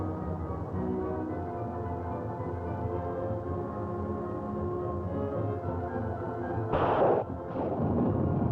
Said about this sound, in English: Destroyers, important members of each task force, can zero in on their target and fire the effective Alfa weapon